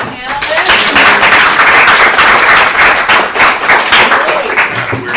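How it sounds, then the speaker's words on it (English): An audience at a panel discussion applauds the panelists, a dense, loud burst of clapping sustained for several seconds with some voices mixed in. "let's applaud our panelists."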